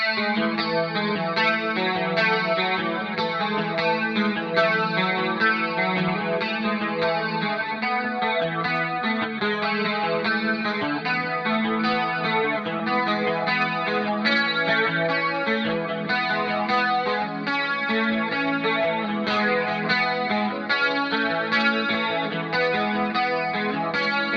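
A heavily effected electric guitar track with chorus, distortion and echo plays steadily, first without and then with multiband compression controlling its low and mid range, dense and continuous with no voice over it.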